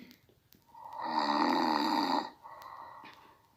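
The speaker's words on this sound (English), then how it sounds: "First I will let you guys hear snoring." A single loud, rasping snore swells and holds for about a second and a half, framed by softer breathing sounds before and after.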